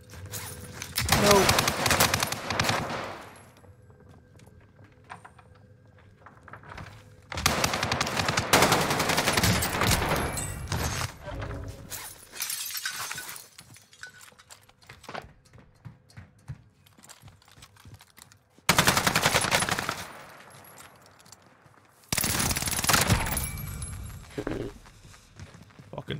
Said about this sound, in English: Why does this gun kill so quick?